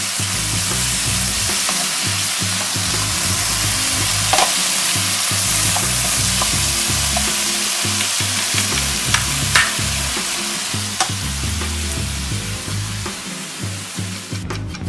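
Chopped serrano chile and mushrooms fry on a hot griddle with chopped meat, a continuous close sizzle broken by scraping and tapping as a spatula stirs them, no voices.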